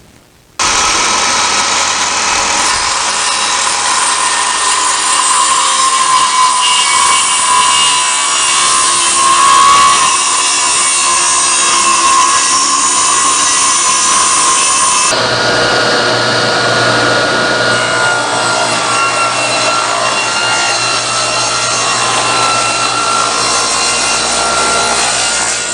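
A power saw cuts wood stock for cutting boards, giving a loud, continuous rasping whine that runs without a break and shifts pitch partway through as the cut changes.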